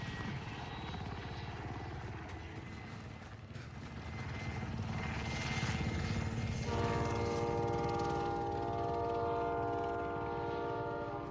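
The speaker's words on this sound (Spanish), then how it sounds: "El helicóptero tiene personas" Helicopter in the video game Call of Duty Warzone, a loud continuous rotor and engine roar that swells and gains a steady droning tone partway through, mixed with other game noise.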